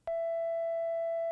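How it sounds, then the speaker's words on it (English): Synthesized telephone tone from a Behringer Neutron using a simple sine and triangle oscillator: a single steady, pure pitched tone with faint harmonics starts abruptly and holds loud and unbroken throughout. "The telephone sound effect is one of the easiest to program."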